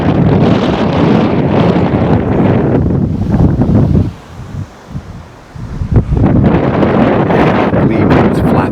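Strong warm wind at an RV campsite roars into the microphone as loud continuous buffeting, drops off briefly in the middle, then gusts back up just as hard.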